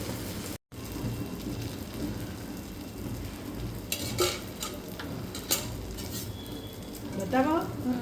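Malpua frying in a small amount of oil in a pan gives a soft, steady sizzle, broken by sharp clinks and scrapes of a utensil against the pan.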